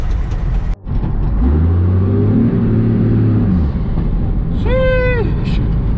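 A Cummins diesel engine in a W100 truck rumbles loud and close, rising in a long rev and settling back, with people talking over the steady roar.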